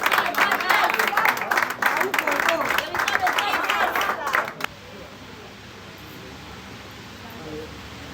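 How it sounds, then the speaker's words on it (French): Audience applause at a school certificate ceremony in a theatre, dense clapping and crowd noise for about four and a half seconds, then cutting off abruptly to quiet room tone. "Mais applaudissons pour lui, non?"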